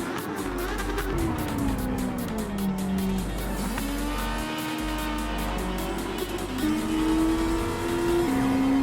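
A racing car engine from the video game Gran Turismo 7 revs hard and steadily, pitch climbing and dropping through gear changes, loud and continuous with no voices.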